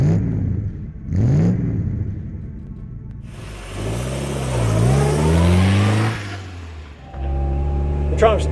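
A Triumph TR2 sports car out on a summer drive: its engine rumbles close by, then revs up strongly with rising pitch through the gears before settling into a steady cruising drone.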